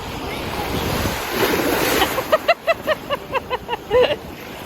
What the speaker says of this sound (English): the waves felt a little bit too choppy for snorkeling today